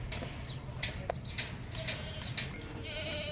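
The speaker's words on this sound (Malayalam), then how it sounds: "ഇവിടെ ദാ അറബിക് ആടുകൾ" Arabian goats on a farm in Dubai bleat in short, scattered calls over a steady outdoor background, several animals sounding at moderate distance with irregular spacing.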